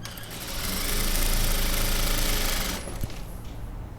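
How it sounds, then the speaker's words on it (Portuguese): A sewing machine stitches knit fabric scraps with a loud, steady mechanical whir close by, then slows and stops near the end, leaving a few faint clicks. "vou girar novamente e vou terminar de costurar aqui"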